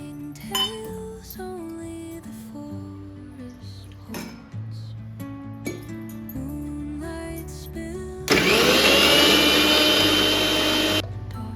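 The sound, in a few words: mixer grinder blending soaked peeled almonds with milk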